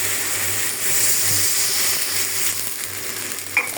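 Onion-garlic paste for a fish curry sizzles in hot oil in a pan. A loud, continuous hiss runs throughout with a faint rattle, ending in a short clatter near the close, and nobody speaks.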